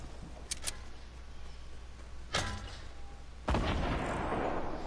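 In a multiplayer shooter game, a grenade launcher fires and its rounds burst in a few sharp, separate blasts over quiet background noise, the last one the loudest and trailing off.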